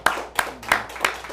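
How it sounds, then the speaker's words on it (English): A studio audience on a talk show claps for theatre guests, but only four evenly spaced, crisp hand claps sound at a slow steady pace, fairly close, with no crowd noise. "Let's give them a big round of applause, ladies and gentlemen."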